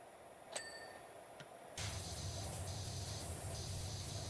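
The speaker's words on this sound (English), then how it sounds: "the water's spraying the back seats" Pressure washer spraying water in PowerWash Simulator 2, a steady broadband hiss that cuts in abruptly partway through and holds constant, preceded by faint quiet ambience with a couple of soft clicks.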